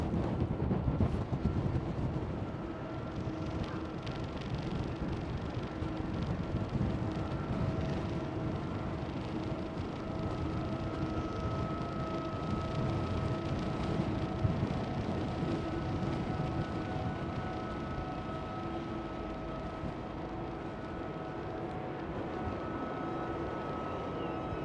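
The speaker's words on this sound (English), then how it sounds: "There goes KLM 737." KLM Boeing 737 airliner passing an airport runway on a windy day, a steady engine roar with droning tones that holds for the whole stretch under heavy wind rumble.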